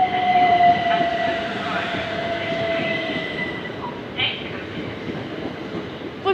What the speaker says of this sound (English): Now arriving at 375622.